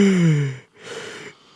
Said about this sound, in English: That was a long yawn